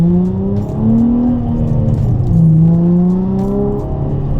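A Nissan 350Z with its muffler deleted drones steadily while cruising in third gear around 3,000 RPM, a loud continuous exhaust tone rising and falling slightly with throttle, heard from inside the car without talk.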